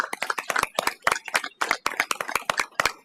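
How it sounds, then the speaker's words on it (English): Clapping at a school board meeting for an award winner, sparse and distinct claps from a small group, each hit crisp and close with gaps between them. "Let's give her a round of applause"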